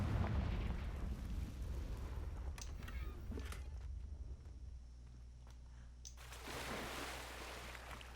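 A Confringo fire spell explosion in the Hogwarts Legacy video game: a broad, rumbling blast with a crackling burst, followed by a second roaring surge near the end, fairly quiet overall.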